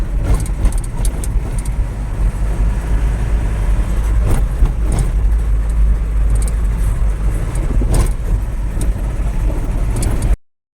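Engine rumble and steady road roar from inside a Bolero mini truck crossing a bridge, loud and continuous with small rattles and bumps, cutting off abruptly near the end, with no talking.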